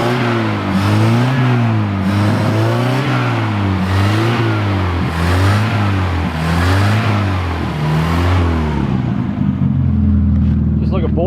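A 1967 Toyota RT40 Corona engine runs steadily close by with a rough, throbbing idle and rising and falling revs for several seconds, while people talk over it.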